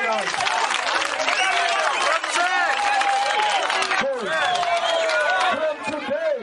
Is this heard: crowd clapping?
yes